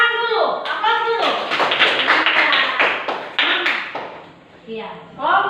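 A class claps hands together in a burst of sharp, dense claps that taper off, with children's voices calling out before and after.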